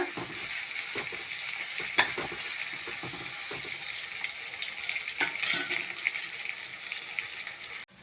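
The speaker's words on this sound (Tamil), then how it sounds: "நல்லா வதக்கி விட்டுக்கோங்க கருவேப்பிலை ஒரு கொத்து சேர்த்துக்கலாம் கலந்து விட்டுக்கோங்க" Onions and curry leaves sauté in a pan while being stirred for a Tamil pulicha keerai kadaiyal, a steady close sizzle broken by scraping spoon strokes, with no voices.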